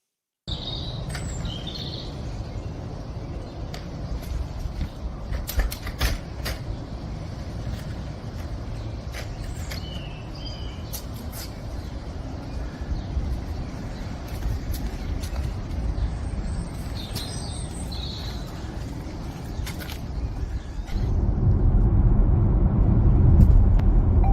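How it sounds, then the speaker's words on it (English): Car ride to Heathrow airport: a steady low road and engine rumble runs throughout, with birds chirping faintly in the background, and the rumble grows louder and heavier over the last few seconds. "getting a lift down here with Franco."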